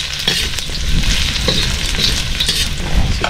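Ginger frying and being stirred in a pan, with a steady close sizzle and scraping stirs throughout, no talk.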